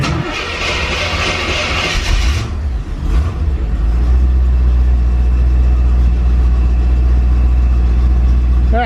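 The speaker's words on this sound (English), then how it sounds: "Let's start it up. Do a nice cold start." A 1984 C4 Corvette engine cranks and fires on a cold start, then settles into a loud, steady low idle that runs on unbroken to the end.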